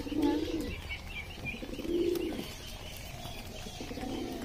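Pigeons coo nearby in low, rounded calls, two distinct coos a couple of seconds apart with softer murmuring and faint chirps between them.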